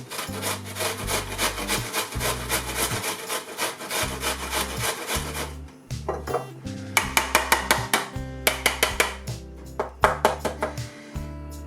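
An onion chopped with a knife on a wooden board while making turkey curry. Rapid, regular knife strikes come in steady runs, pause briefly, then resume as sharper, more spaced chops, close and clear with no talking.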